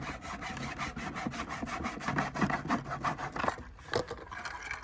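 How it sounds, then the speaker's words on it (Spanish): A hacksaw cutting straight through wood, a steady back-and-forth rasping of many quick strokes, close and continuous. "es muy fácil cortar con la cegueta y bien derechito"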